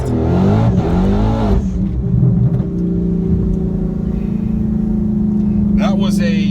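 A 2019 Dodge Scat Pack or Hellcat accelerates hard on a street with its tires spinning, a loud continuous engine roar that climbs in pitch and holds steady, close by.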